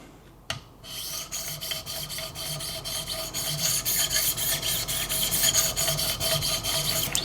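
A knife blade is drawn repeatedly across a 1000 grit stone on a Wicked Edge guided sharpening system, giving rhythmic close rasping strokes that grow steadily louder after a sharp click at the start.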